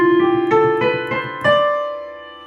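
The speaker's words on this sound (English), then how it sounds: "the D Dorian sounds like this." A D Dorian scale played note by note on a pitched instrument, about six clear tones stepping upward with steady rhythm, each ringing with bright harmonics, the last one sustaining and fading; close and alone, no talking.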